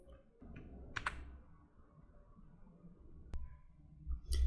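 Keys clack briefly on a computer keyboard as a serial number is entered for software activation, a few quiet, close taps with pauses between them.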